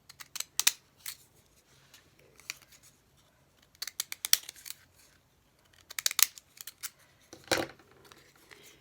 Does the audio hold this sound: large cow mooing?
no